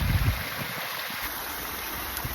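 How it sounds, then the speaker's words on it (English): A waterfall pours steadily in the penguin enclosure of a wildlife park, a soft even rush of water with a slight low rumble, heard alone at moderate distance. "I love listening to the waterfall"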